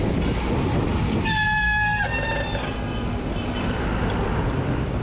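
Bicycle disc brakes let out a loud, piercing tonal squeal for under a second, like a horn blast, over steady rolling noise before the shriek cuts off.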